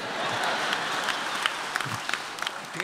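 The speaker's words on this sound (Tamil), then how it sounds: "பாரதி மேடம் இவ்வளவு பலமாக கைதட்டி நான் இன்னைக்கு தான் பார்த்துருக்குறேன்." An audience at a Tamil debate in Oxford, UK claps loudly, with dense, sustained applause and sharp individual claps standing out near the end.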